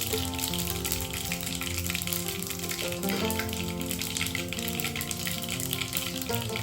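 Mustard and cumin seeds sizzle in hot oil, a dense crackling fry that stays loud and even throughout with fine popping texture.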